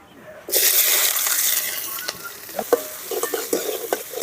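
Mustard seeds and chopped shallots sauté in a hot pan for a traditional wild broad bean stir-fry, a steady loud sizzle that bursts in suddenly and runs on, with scattered spatula clicks and scrapes.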